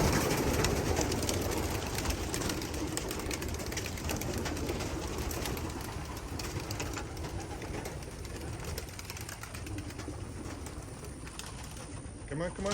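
Racing pigeons released from a loft, cooing and wing flutters in a dense, close bird chorus with steady rustling throughout.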